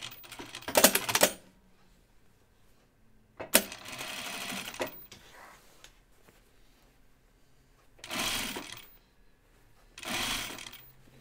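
A home sewing machine stay-stitches around the neckline of a Kelly Anorak inside a small seam allowance, running in four short bursts separated by quiet pauses.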